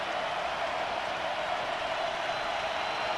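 The stadium crowd in Columbia at a Kentucky versus South Carolina college football game makes a steady, distant wash of roaring and cheering that holds evenly throughout, with no clear voice on top.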